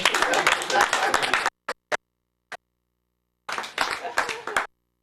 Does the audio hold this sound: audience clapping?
yes